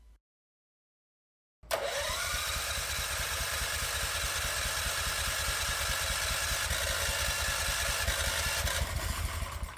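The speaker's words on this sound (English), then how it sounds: "let's crank the engine over without a choke." A 212 cc Predator small gas engine cranks over without its choke after a brief silence, giving a steady, loud, rapid chugging drone that runs on evenly for about eight seconds without catching.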